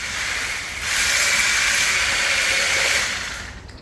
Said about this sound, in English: There's a blender used for fruits. We're using it to blend butter,